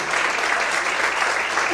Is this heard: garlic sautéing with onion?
no